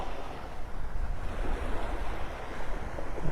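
Small ocean waves wash along the shore of Vanderbilt Beach in North Naples, Florida, a steady, full-bodied surf hiss with breeze blowing across the microphone, continuous and fairly loud with no talking.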